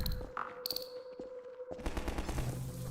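Gunfire in Half-Life 2 Episode One, a shotgun among loud sustained shooting, repeated blasts and rattling fire across a busy game scene inside a hospital interior, with no talk over it.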